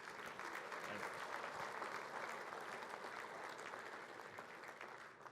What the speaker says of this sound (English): Round of applause for all our Team of the Year.